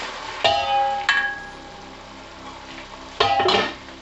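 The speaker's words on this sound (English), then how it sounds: "I'm taking the lid off" A lid comes off a cooking pot of saag aloo, spinach and potato curry, with two sharp metallic clanks and rattles up close and a faint simmer between them. No one speaks.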